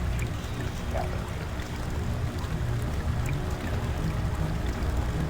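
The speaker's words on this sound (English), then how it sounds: "the human Citadel's waterfall sound effect is like persisting" A steady waterfall rush from the human Citadel in Legacy of Kain: Soul Reaver 2, a continuous broadband roar of falling water that persists loud and unbroken throughout.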